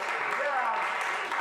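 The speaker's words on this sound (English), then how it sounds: "I'm asking you to applaud yourselves" An audience gives itself a round of applause, a dense, even wash of clapping that carries on at steady loudness, with voices mixed in underneath.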